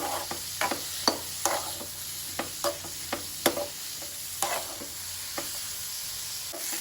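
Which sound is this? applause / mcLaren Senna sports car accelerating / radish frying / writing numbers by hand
radish frying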